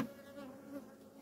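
Honey bees buzz steadily around an opened hive during a Formic Pro mite treatment, a faint, continuous drone with no other sounds.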